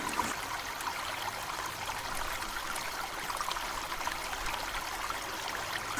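Athirappilly waterfall in full rainy-season flow, a steady, dense roar of rushing and crashing water that holds at an even level throughout, with no voices.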